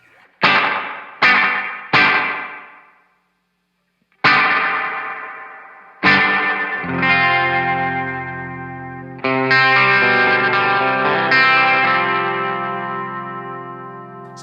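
Electric guitar notes and chords ring out through an Eastwood Black Box Series reverb pedal, each attack followed by a long washy tail, building from single plucks to sustained layered chords.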